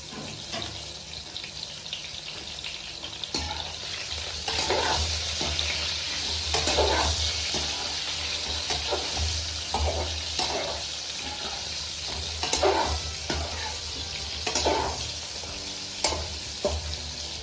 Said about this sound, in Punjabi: ਹੁਣ ਆਪਾਂ ਤੇਲ ਆਪਣਾ ਗਰਮ ਹੋ ਗਿਆ ਹੁਣ ਸਭ ਤੋਂ ਪਹਿਲਾਂ ਆਪਾਂ ਪਾ ਦੇਣਾ ਵਿੱਚ ਇਹਦੇ ਕਰੇਲਿਆਂ ਨੂੰ